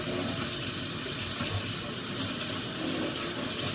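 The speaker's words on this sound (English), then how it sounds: "you can just hold that in your fingers and rinse it off" Water from a tap pours steadily as parts of a Miops water drop splash kit are rinsed, a close, continuous rushing flow with no pauses.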